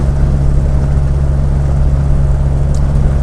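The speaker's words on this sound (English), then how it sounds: "what you can probably hear now is excessive engine noise as well as excessive wind" A Triumph Herald-based Norfolk Herald car at speed makes loud, steady engine drone with a strong low hum and constant wind rush filling the cabin, unbroken for the whole stretch.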